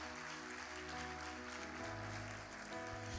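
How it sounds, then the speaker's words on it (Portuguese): A church congregation applauds during a Portuguese sermon, soft continuous clapping sitting low beneath sustained organ or keyboard chords, faint and distant. "Você podia aplaudir ao Senhor por isso"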